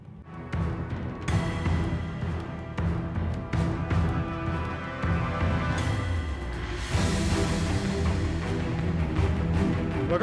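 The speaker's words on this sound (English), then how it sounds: "And the battle music is on." Interactive battle music from a Wargaming video game, a dense, loud, continuous orchestral score that swells and builds intensity toward the end, with no talking over it.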